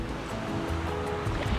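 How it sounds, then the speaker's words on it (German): Sea waves washing onto a beach in Denmark beside a tent pitched right at the water, a steady broad rumble of surf that keeps going without a break and carries no talking. "Also man hat hier direkt das Meer, direkt sein Zelt am Meer"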